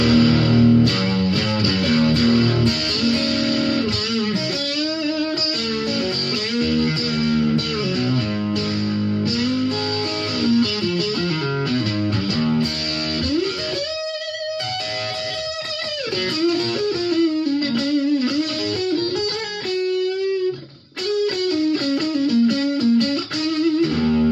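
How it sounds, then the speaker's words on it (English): An electric guitar plays riffs and held notes through a boost/overdrive pedal with the gain turned up, heavy distortion, gritty and sustained, loud and close with no talking. "you can turn the gain up and make it really, really, really distorted"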